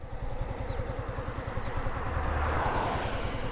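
A Yamaha R15M 150cc motorcycle engine pulling away, a close steady low pulsing drone under a broad rushing hiss of wind that builds slightly.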